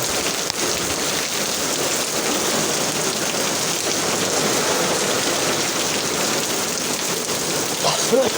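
Heavy rain pours down steadily, a loud, continuous hiss of drops hitting surfaces close by, with no break throughout.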